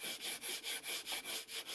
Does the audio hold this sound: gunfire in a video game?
no